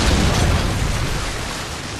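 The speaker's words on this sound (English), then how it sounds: "Friendly Predator missile incoming." A Predator missile strike in Modern Warfare 2 erupts as one loud, broad blast with a rolling, rumbling decay that fades slowly over two seconds, with no talk.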